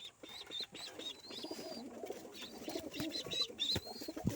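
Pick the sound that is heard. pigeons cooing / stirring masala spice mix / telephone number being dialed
pigeons cooing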